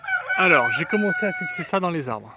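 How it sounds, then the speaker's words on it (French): A rooster crows nearby outdoors while a treehouse platform is built in the trees, its call rising at the end of a man's speech and partly under it. "Bon, il y a le coq qui chante là."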